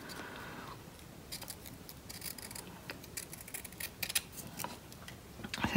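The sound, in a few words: scissors cutting thin paper strips for whiskers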